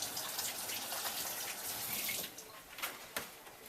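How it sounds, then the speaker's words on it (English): Water runs steadily from a tap during handwashing before preparing a turkey, a close continuous gush that thins out and splashes intermittently toward the end. "you want to wash your hands very good"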